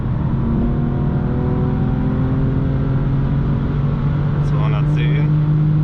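A 600 hp G-Power tuned BMW M4 F82 accelerating hard at high speed, heard from inside the cabin as a loud, steady engine drone with rising tones and constant road and wind roar, plus brief voices near the end.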